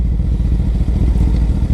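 A 2008 Honda CBR 1000RR engine runs at steady low-pitched, rough loudness as the motorcycle rolls off in fifth gear, a continuous close rumble with no talk.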